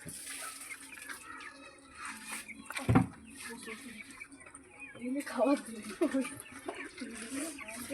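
Hens clucking and chattering in a close group, with scattered bursts and a louder flurry midway, plus rustling and a person talking over them.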